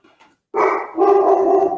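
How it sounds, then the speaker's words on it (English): A pet dog barks nearby in a home, giving one sharp bark followed by a longer, sustained yelping bark, loud and alone with no talk. "My dog is barking."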